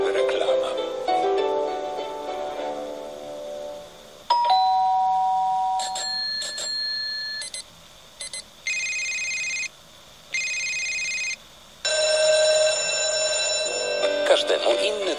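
Radio advertisement featuring a series of doorbell chimes and telephone ringtones, bursts of bright repeating rings with brief gaps between them, the first part overlaid with talk.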